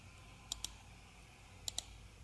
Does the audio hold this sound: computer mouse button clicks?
yes